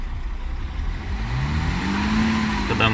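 A 2016 Audi Q7 4M with a 3.0 diesel engine revs as the throttle is pressed, the steady idle drone climbing smoothly in pitch and holding loud and close, with faint talk.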